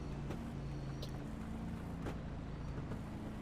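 An ARCA stock car's engine in iRacing drones steadily at high revs while it rolls in third gear, a constant mid-level hum with faint tonal bands and a few brief sharp ticks, and no voices.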